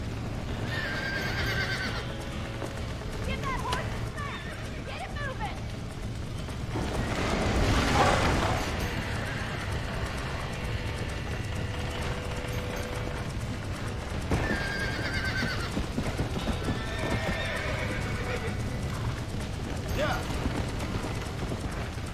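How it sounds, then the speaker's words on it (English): Horses whinny several times over a steady clatter of hooves and background noise in the video game Red Dead Redemption, with a louder burst of activity midway through. "Back that dumb horse!"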